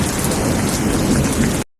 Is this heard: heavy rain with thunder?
yes